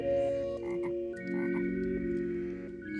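Frogs croak in a video game set in a swampy world, a rapid, throaty croaking running steadily through the clip over a layered, humming game backdrop with no talk.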